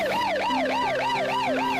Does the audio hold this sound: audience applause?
no